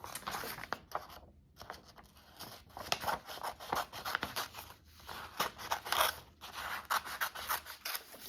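Paper being cut with scissors, a steady run of close crisp snips and rustling crunches, continuous and moderately loud, with no talk.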